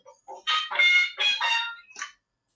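A parade horn at the Sugar Bowl Parade gives a run of squawking, clucking honks, close and loud, a few short blasts then longer wavering ones before it cuts off into silence.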